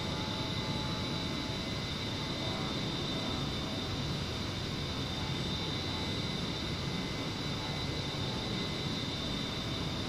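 A-10C jet's engines in the DCS flight simulator game, cruising at max power toward a waypoint: a steady, even broadband roar with a constant whine, filling the whole stretch without letting up.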